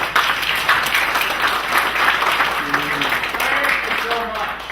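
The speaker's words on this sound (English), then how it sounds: "he deserves a round of applause" An audience at a cyber security plenary workshop breaks into loud, sustained applause, dense clapping that fills the room for several seconds before tapering off, with a voice beginning to speak near the end.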